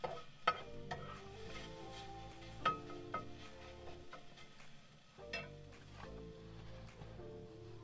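Camp breakfast of egg whites, spinach and pico frying in a pan: a soft, steady sizzle with occasional scraping stirs and clinks, faint and close, with brief murmurs of talk.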